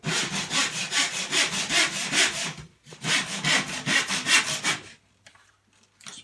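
A short, stiff hand saw cuts along a knife-scored line in a glossy IKEA VOXTORP kitchen end panel, rasping in steady back-and-forth strokes up close, pausing briefly midway, then falling quiet.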